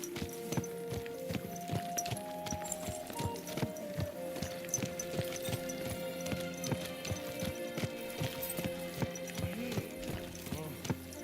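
Horse hooves clip-clopping steadily while riding in the video game Kingdom Come Deliverance II, a continuous near rhythmic thudding over background music and ambience.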